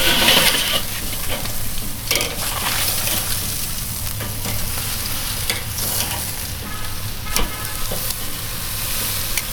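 Ribeye steaks searing on a barbecue grill after a cold-grate reverse sear, giving a steady, fairly loud sizzle and crackle that holds through the whole stretch with a few sharper pops.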